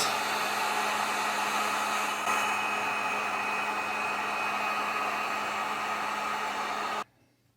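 Heat gun warming the broken screen of a Moto G Stylus phone to loosen it for removal: a steady, close, even blowing roar that runs for about seven seconds and then cuts off abruptly, with no voices.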